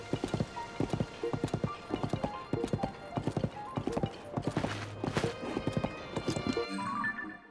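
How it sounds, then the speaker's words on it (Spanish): A horse gallops in Zelda: Tears of the Kingdom, with a brisk, steady clip-clop of hooves close up throughout. A short whinny and a swell of game sound come near the end. "Se tiene que poder llegar a caballo, obviamente."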